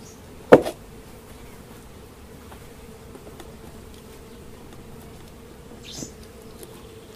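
Honey bees hum around an opened hive with a frame full of honey, a steady, close drone broken by a knock early on and a brief rustle later.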